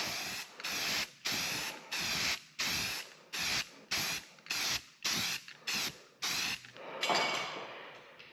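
A spray gun applies black coating to a dump truck bed in about a dozen short, even bursts of loud hissing, each roughly half a second long and separated by brief pauses, ending in a longer spray.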